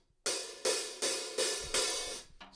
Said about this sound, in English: then I get a new pair of hi-hats from the band room because they don't need an extra pair